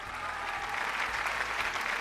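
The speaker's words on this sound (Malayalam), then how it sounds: "പിന്നെന്താ നല്ലൊരു കയ്യടി കൊടുക്കാത്ത?" Applause from a TV studio audience on a Malayalam game show, steady dense clapping from many hands, loud and continuous for the short stretch.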